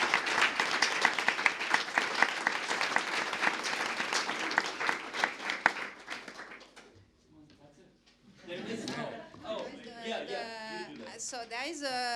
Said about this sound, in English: we give a big round of applause to Elisabeth Schröder in absentia